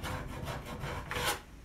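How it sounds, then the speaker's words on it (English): Painted wood is scraped by hand to make a distressed, chippy finish, with several short, rough, close rasping strokes in a quick rhythm and a final harder scrape. "You can scrape it over, whatever you have to do to get the look that you want."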